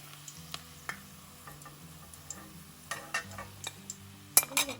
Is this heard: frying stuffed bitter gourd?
yes